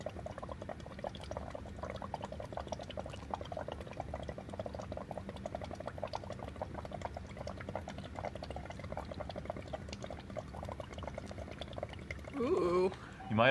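Breath blown through a straw into a container of water mixed with a pH indicator, giving a steady, continuous bubbling gurgle close by for most of the stretch, with a louder burst of handling noise near the end.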